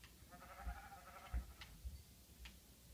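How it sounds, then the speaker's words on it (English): Sheep in Minecraft bleating in a few short, quiet calls with a wavering tone, with faint game clicks and low thumps between them. "Ooh, sheep."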